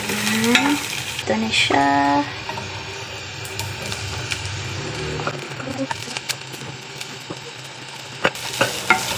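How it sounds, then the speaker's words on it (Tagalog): Garlic, onions and squid sauté in a hot pan with a steady sizzle, stirred and scraped by a utensil while a voice speaks briefly nearby; fairly loud and close. "Mabilisang gisa lang guys para hindi tumigas itong ating pusit."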